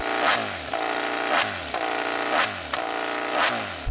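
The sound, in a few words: MotoGP racing motorcycle engine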